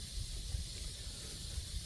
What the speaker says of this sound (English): It's just a lot of sizzling.